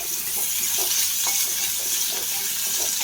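Sliced onion and small shallots sautéing in hot oil for an eggplant masala curry, a steady loud sizzle with occasional soft stirring scrapes, close up and with no voices.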